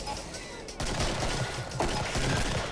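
Boomstick shotgun blasts in the Killing Floor survival shooter, loud gunfire bursts with heavy concussive onsets amid constant game clatter and background noise, with voices talking in the mix.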